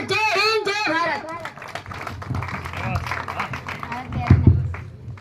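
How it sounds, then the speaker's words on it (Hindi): Applause from a school audience at an Independence Day function, a steady wash of clapping mixed with children's voices and crowd noise, rising in a louder burst near the end. "जितनी तालियां बजे उतनी ही कम"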